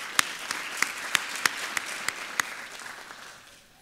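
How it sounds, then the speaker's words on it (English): A small audience at a policy forum claps for a corporate host, sparse separate hand claps spaced out at a moderate rhythm, fairly distinct and not very loud, fading toward the end. "Let's give them a round of applause as well"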